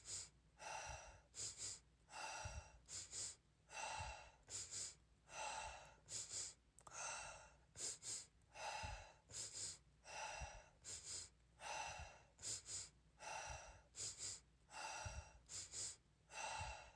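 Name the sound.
two-step inhale and exhale breathing exercise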